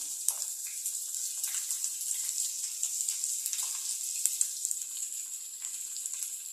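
Ginger frying in a half-and-half mix of hot oil and ghee gives a bright, continuous hiss flecked with small crackles and pops, close and steady, with no voices.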